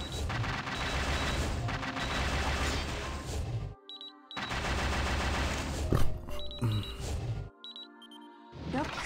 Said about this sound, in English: Burst shot.